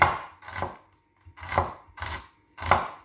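A knife chops onion on a cutting board, with three quick bursts of close, firm strokes separated by short pauses. A handful of cloves of garlic and some parsley are part of the same batch.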